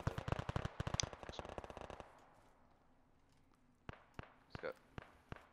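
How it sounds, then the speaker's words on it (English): Rapid automatic gunfire in the military shooter Arma 3 rattles loud and close for two seconds, then after a lull several sharp single shots crack out irregularly. "Where are they shooting from?"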